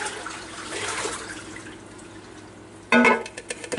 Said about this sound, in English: now I'm going to pour this out real quick